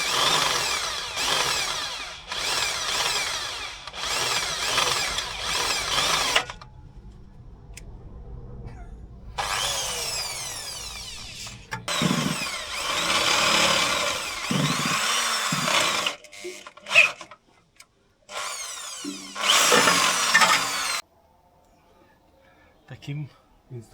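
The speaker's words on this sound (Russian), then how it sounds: "И с ее помощью будем высверливать равномерно в головке" A power drill bores out a broken stud in a cylinder head in a garage, running in several loud sustained bursts separated by quieter pauses where a voice is heard.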